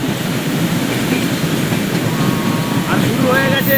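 Saraighat Express, an ICF-coach passenger train running from Howrah toward Guwahati, rumbles steadily along the rails near the Farakka Barrage on a rainy day, a continuous loud roar with faint squealing tones toward the end.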